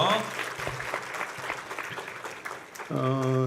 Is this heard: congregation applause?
yes